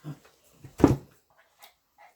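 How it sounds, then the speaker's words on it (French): Small dogs whimper in short, sparse bursts, with one louder whine-yelp in the middle and faint softer whimpers trailing after, close by in a quiet room. "Bon, on va attacher mes petits chiens pour qu'ils aillent dehors."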